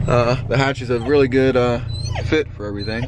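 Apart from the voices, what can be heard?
dog whimpering in car hatch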